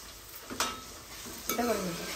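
Mushroom curry frying in a pan, a constant hiss with two brief scraping stirs of a utensil against the pan, close and clear without talk.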